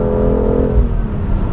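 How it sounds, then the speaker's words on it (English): A BMW M2 Competition sports engine, fitted with a RaceChip GTS Black tuning module, drones steadily at high revs with a dense, continuous roar, close and loud, with no talk over it. "it's a high performance sports engine and you want to rev it"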